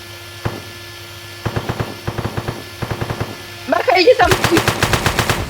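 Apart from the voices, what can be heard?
gunfire in One-Armed Robber video game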